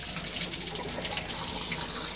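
Tap water runs into the bathtub of a mobile home in Ohio being winterized, a steady, close hiss and splash that does not let up, with no voices.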